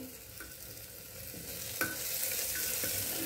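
Spiced masala frying in oil in a pan, a steady quiet sizzle with occasional stirring scrapes and small crackles throughout, with no voices.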